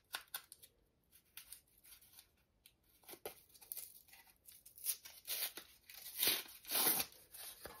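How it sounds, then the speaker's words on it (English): A piece of cardboard is ripped by hand in short, quiet tearing bursts, with scratchy rips growing louder and longer toward the end, close and with no talk. "Let me rip this off a little bit."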